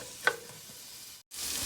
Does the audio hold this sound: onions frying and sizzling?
yes